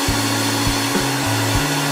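Close, loud hair dryer blowing on hair, a steady droning whoosh with a humming motor tone that dips briefly several times as it is moved, no talking.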